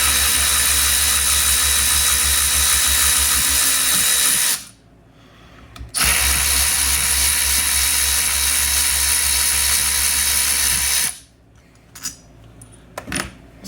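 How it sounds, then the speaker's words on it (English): A power tool takes bolts out of a FiTech fuel injector unit, running loud and close in two long continuous whirring bursts separated by a short stop, then light clinks of metal parts. "I'm going to take these bolts out."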